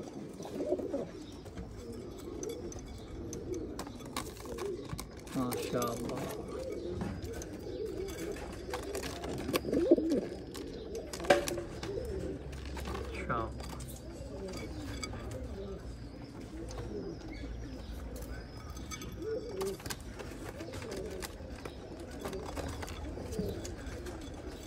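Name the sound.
pigeons cooing in a loft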